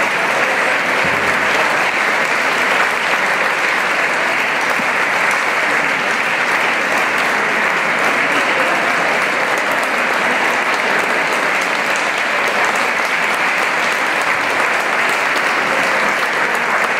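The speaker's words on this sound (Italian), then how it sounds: "c'è fatto un applauso" Sustained audience applause at an Italian choral concert with polyphonic groups in Capriva, steady and dense throughout with no talk over it.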